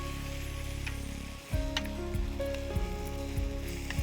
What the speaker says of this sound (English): I'm just going to stir fry this.